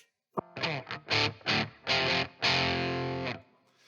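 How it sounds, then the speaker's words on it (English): Electric guitar played through an Empress Heavy Menace distortion pedal on its lighter channel with the gain turned fully down, giving mildly overdriven tone: several short chords followed by one long sustained chord that fades out, with no talking. "If we set it the channel to lightish and turn the gain all the way down, we get a little bit of distortion."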